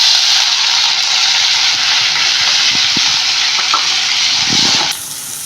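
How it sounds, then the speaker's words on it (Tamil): Onion, tomato, curry leaves and mustard seeds sauté in hot oil for a Kerala-style fish molee base, giving a loud, steady sizzle with a few soft stirring knocks before it drops off sharply near the end. "தக்காளி வெங்காயம் நல்லா வதங்கிடுச்சு"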